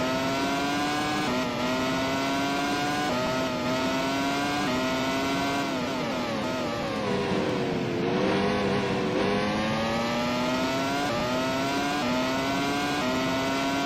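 A Ferrari Formula 1 car in the Grand Prix 4 racing game screams at high revs with a steady, loud engine whine, pitch rising through each gear and dipping briefly on upshifts and braking, sustained throughout.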